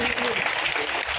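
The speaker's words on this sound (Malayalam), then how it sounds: "നല്ലൊരു കയ്യടിയോടെ" An audience at the Amar Jawan inauguration ceremony in Thrissur gives a dense, steady burst of clapping, with a voice speaking over it.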